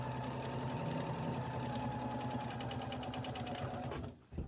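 A sewing machine stitches around the edge of an art quilt, running in a steady, continuous mechanical whir up close before stopping abruptly near the end.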